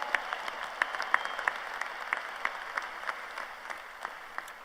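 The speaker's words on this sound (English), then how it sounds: "you could clap for these guys" A university spring commencement audience applauds, a sustained wash of many hands clapping at moderate distance with scattered sharper claps standing out and no speech.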